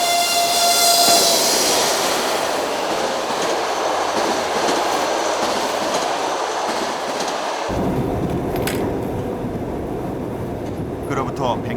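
A train on the Trans-Siberian Railway rolls along with a continuous rumble and wheel noise, loud and close as if heard from on board. Faint speech can be picked out beneath it.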